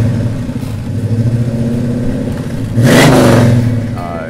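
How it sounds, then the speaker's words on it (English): A loud hot rod engine idles with a heavy lumpy burble, then revs sharply upward for a moment before settling back, close and powerful at a Goodguys car show. "The engine is flat out mean and nasty."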